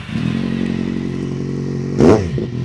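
A Kawasaki Z750 motorcycle fitted with an aftermarket exhaust holds a loud, steady engine drone, then one sharp burst near the end pops and crackles before the drone carries on.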